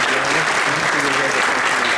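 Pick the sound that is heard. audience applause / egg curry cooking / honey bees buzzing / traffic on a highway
audience applause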